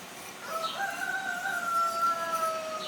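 A rooster crows once, a long drawn-out call at moderate distance over quiet background.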